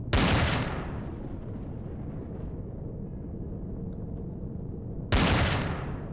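Two heavy, booming gunshots from Empyrion Galactic Survival, about five seconds apart, each a loud close blast that decays slowly, with a low continuous rumble between them.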